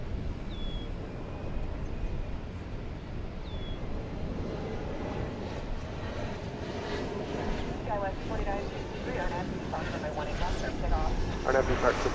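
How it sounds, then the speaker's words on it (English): An Airbus or Embraer E170 jet rolls down runway 18 left at DFW Airport, a low, steady engine rumble heard from a distance that swells slightly toward the end, with faint voices over it. "an Airbus or an Embraer E170 is rolling down 18 left"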